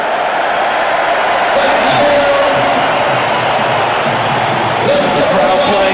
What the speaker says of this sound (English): The crowd playing their part.